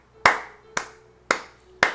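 Four sharp, evenly spaced hand claps ring out close by during a church service, each one crisp and isolated, with a short echo fading between them.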